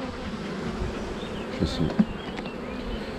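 Honeybees buzz around an opened hive during handling, a steady faint hum of many insects with a few brief closer passes, while someone speaks a couple of words nearby.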